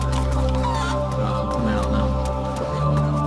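A chicken clucks in the survival video game DayZ, soft repeated clucks mixed into a dense, steady bed of game ambience and low hum.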